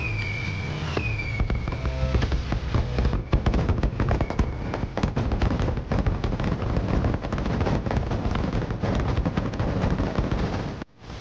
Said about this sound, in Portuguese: Os fogos da festa fizeram com que aquele momento se tornasse algo mágico.